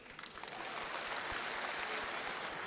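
Audience at a Save Waqf conference in Talkatora applauds in a dense, fairly distant clapping wash that builds quickly and stays steady, with no speech over it.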